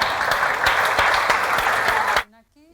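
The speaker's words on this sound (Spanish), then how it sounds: "todos merecen un gran aplauso" Audience at a social-project awards ceremony applauding, a dense, loud wash of many hands clapping that cuts off abruptly near the end, followed by a voice beginning to speak.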